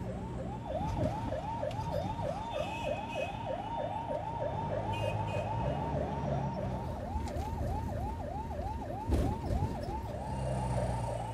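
An ambulance siren wails in a steady, rapidly repeating up-and-down cycle while stuck in Indian city traffic at a red light, loud and continuous over a bed of engine and road noise.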